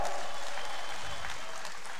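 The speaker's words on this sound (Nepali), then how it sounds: "एक बेर कम से कम हुनका नाम पर ताली बजाए जोरदार" A large audience at a Sita-Ram wedding festival in Janakpurdham applauds, a dense, steady wash of clapping heard from amid the crowd.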